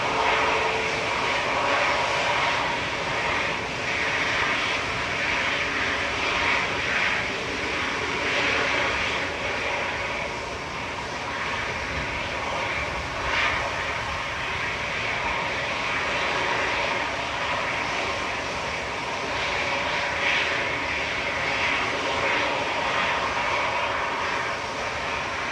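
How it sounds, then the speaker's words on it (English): Parked EasyJet airliner at Manchester Airport with engines running, a steady loud broadband roar and whine holding for the whole stretch with no breaks. "we've got a noisy EasyJet parked in front of us again."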